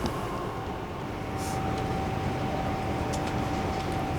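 Steady rumble of a train rolling toward Redruth, with a faint high whine running through the constant low roar and no voices.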